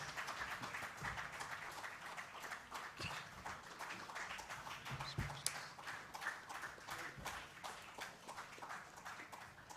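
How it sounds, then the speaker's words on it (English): Applause from the audience at a national quiz finals for young contestants. Dense, steady clapping holds at an even level throughout and does not fade. "Keep that applause going"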